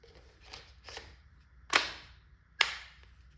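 A CO2-powered salt gun fires 9.9 gram rye balls: two sharp, loud pops ring out close by, with a couple of softer clicks and handling noises before them.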